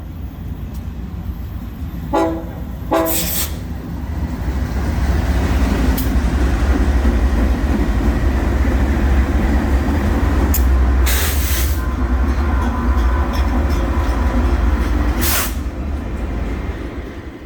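A train rumbling past beside the Mississippi River at Fort Madison, a steady low roar filling the scene with a few brief horn toots near the start and later, no talk.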